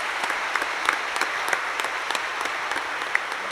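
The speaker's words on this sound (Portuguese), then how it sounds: "vamos abraçar o Carter com uma grande salva de palmas." Audience clapping together in a steady burst at a Catholic formation talk, moderately loud, with a few sharper individual claps popping out.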